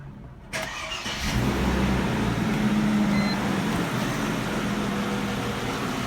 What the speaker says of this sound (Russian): Вот такой характерный стук.